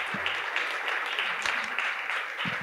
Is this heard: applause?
yes